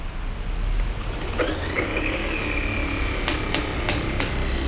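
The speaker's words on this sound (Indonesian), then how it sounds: "kalau mau ngebersihin, kita cukup push di max RPM, nanti sisa ground coffee yang tertinggal itu dia bakal turun sendiri" A Weber Workshop EG-1 V3 coffee grinder pushed to maximum RPM to clear leftover grounds: the motor whines upward as it spins up, then holds a high steady tone, with several sharp knocks near the end.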